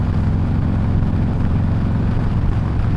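A 2024 Harley-Davidson Road Glide with a Screamin' Eagle 131 Stage 4 engine rumbling under power, a loud, steady, deep pulsing drone with wind roar throughout.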